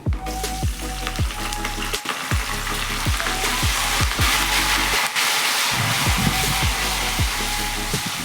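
Green chilies and curry leaves fry in hot oil with golden chana dal on a low flame. The sizzle is loud and continuous, with crackling pops throughout.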